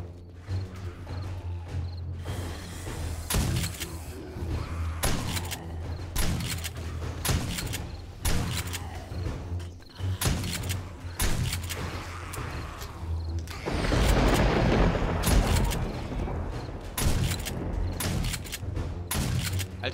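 Gunfire in the zombie survival game 7 Days to Die during a day-seven horde night: repeated loud shots in an irregular rhythm with booming impacts, and a denser burst of noise midway, heard without talk.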